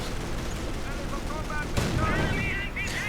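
Gunfire rattles in a WWII strategy video game as a quad AA half-track comes under fire, with dense bursts and rumbling booms continuing throughout and faint voice-like sounds mixed into the battle noise.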